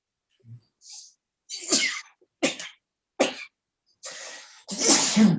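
A few short, sharp sneezes and coughs burst out in quick succession, close and isolated, separated by brief silences.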